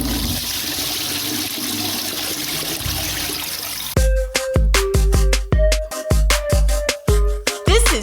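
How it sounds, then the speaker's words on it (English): A toilet flush sound effect is played on a wrestling talk podcast: after a steady rushing, gurgling water wash, a series of sharp, loud repeated hits and tonal stabs follow in a choppy rhythm. "I thought you were getting the flush sound"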